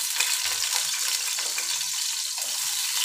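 Chopped onions frying in hot oil in a pan for pulao, a steady close hiss and sizzle running unbroken throughout with no speech.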